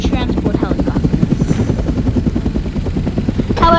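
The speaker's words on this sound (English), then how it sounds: "Here's a very giant transport helicopter." Giant transport helicopter in the video game War Tycoon, close rotor chopping in a fast steady pulse throughout, with someone talking briefly at the start and end.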